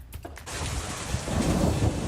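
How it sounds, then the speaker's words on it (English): Heavy rain pours steadily through a thunderstorm near Denver, with thunder rumbling low underneath and hail hitting the ground. The downpour grows louder and denser in the final second, with no voices over it. "More hail and heavy rain hitting to the south and west of Denver."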